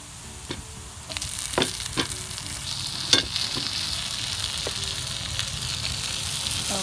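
Onion and tomato frying together in a pan, a continuous close sizzle with several clicks and scrapes of a spoon stirring against the pan.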